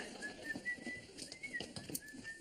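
Faint short whistled notes from a person repeat at a light, uneven pace over a quiet room background.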